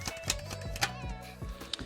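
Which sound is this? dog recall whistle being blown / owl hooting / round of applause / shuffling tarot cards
shuffling tarot cards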